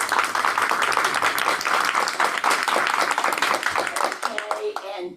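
Meeting attendees voting by applause: a burst of dense, lively clapping from a small group in a room, close and loud, that tapers off quickly at the end as a voice begins.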